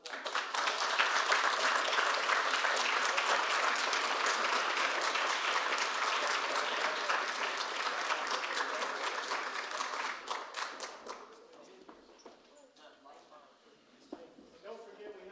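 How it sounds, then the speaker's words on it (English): Audience at a school district board meeting gives sustained, steady applause for about eleven seconds, then it tapers into scattered claps and quiet room murmur. "Give them a round of applause."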